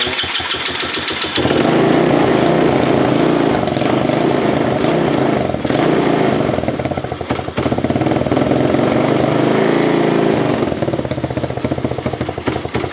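Chinese 125cc semi-automatic quad with a clutch fault cranks briefly, then catches and runs loud and close with a steady buzzing idle and a slight revving dip midway, no speech.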